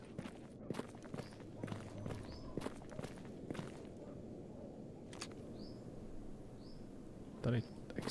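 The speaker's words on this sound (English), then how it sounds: "There's multiple footsteps." Footsteps crunch along steadily in the S.T.A.L.K.E.R. GAMMA game, a run of quiet repeated steps over a low background murmur, with a few brief chirps and one louder thump near the end.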